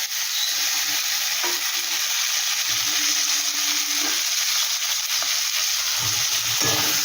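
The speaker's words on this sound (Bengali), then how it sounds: "একটু ভালো করে আমি কষিয়ে নেব।" Tomato and prawns sautéing in a pan, a steady close sizzle of frying with stirring and spatula scrapes throughout, no talking.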